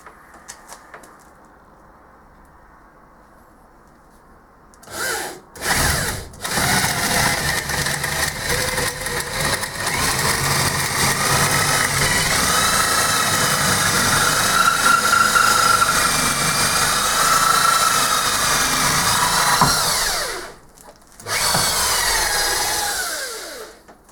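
A drill bit bores into a wooden corebox made for casting, held in a metal vise. A steady, loud motor whine runs for about fifteen seconds, with short bursts of sound just before and after it.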